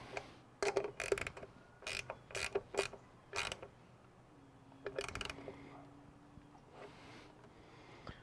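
A 12 millimeter fastener being turned to screw a door mirror onto a Jeep Wrangler bracket, heard as bursts of quick ratcheting clicks in short groups, close and fairly quiet, with no talking.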